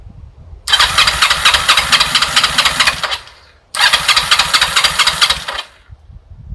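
A Kawasaki ER5 motorcycle on a booster box, choke on, fires up and runs rough for about two seconds. It cuts out, restarts loudly and runs briefly again before dying.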